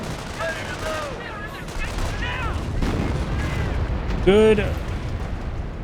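Artillery shell blasts and scattered gunfire in a Company of Heroes 1 match rumble in the background, mostly beneath a commentator's steady talk.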